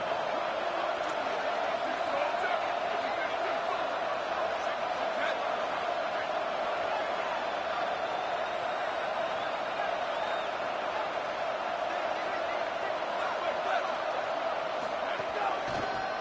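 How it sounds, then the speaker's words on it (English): Stadium crowd at a Texas Tech football game on third down, a continuous roaring wash of voices, steady and sustained throughout with no break, heard from within the stands. "The crowd electric, trying to help Tech on this third down."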